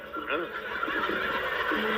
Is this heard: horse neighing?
yes